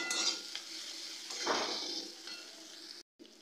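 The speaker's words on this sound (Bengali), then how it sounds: "এই মশলাগুলো দিয়েও আমি ভালো করে কষিয়ে নেব" Powdered spices frying in a pan for Bihari-style egg curry, a low sizzle mixed with scraping and clanking of a spatula against the pan, cut off briefly near the end.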